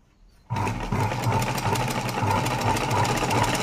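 Sewing machine stitching gathers in fabric, starting abruptly after a quiet moment and then running steadily with a loud, close, continuous mechanical whir and rapid needle rhythm.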